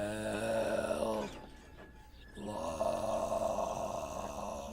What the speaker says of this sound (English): With a startled snore, the coach woke.